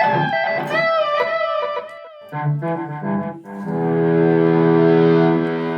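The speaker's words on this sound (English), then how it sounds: "the two delays kind of work together to create almost a reverb, but it's not really reverb." Electric guitar notes ring out through a doubled delay from a Flashback 2 pedal set to a mid-80s delay sound, echoing repeats blending into a lush, reverb-like wash before a sustained chord swells.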